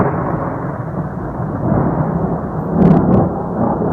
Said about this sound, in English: A pretty unusual event when a winter snowfall brings the thunder.